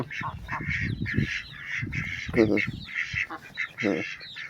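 Nasal quacking and honking from nearby ducks, including a black duck, repeated in uneven bursts, with faint low noise underneath.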